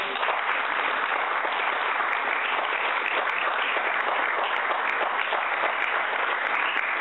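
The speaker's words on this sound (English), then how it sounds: "A big round of applause for the speaker." An audience at a lecture claps steadily for a speaker, a dense, even burst of many hands lasting about seven seconds with no voices over it.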